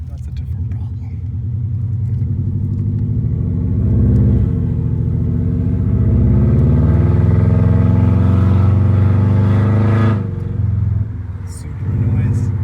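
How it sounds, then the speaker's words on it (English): A Subaru car drives with a steady, loud engine and exhaust rumble that swells slightly and dips near the end. The exhaust is known to rattle. "Subaru noise."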